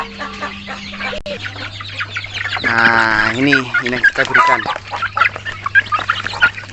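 Chickens cluck and squawk loudly close by while being fed fermented rice bran, a busy overlapping chorus with one prominent drawn-out call, as someone talks over them.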